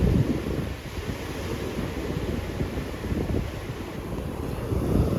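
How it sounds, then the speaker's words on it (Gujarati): Sea waves washing against the shore near a jetty where people fish for lobster and prawns, a steady close rush of surf mixed with strong wind buffeting the microphone, with no talking. "કેટલા મોજા થઈ ગયા"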